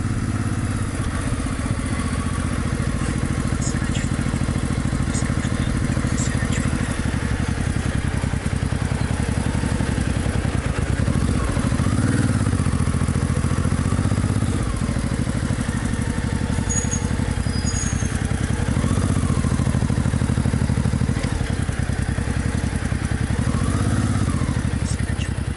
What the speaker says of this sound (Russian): Байкер какой-то на заправке.